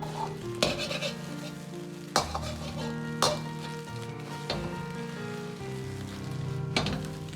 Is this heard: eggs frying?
yes